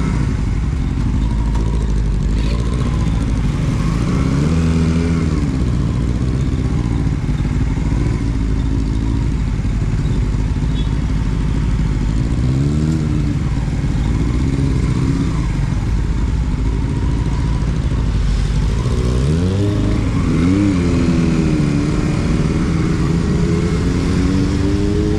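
Motorcycle threading through traffic: a loud, continuous engine drone heard up close from the rider's position, with repeated rising revs as it accelerates, road rumble and passing vehicles around it, and no talk.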